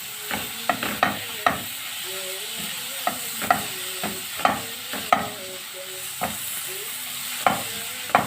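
A spoon stirs tomatoes and peppers frying in a pan, giving a rhythmic series of sharp scraping clacks over a soft, steady sizzle, close up and with no voices.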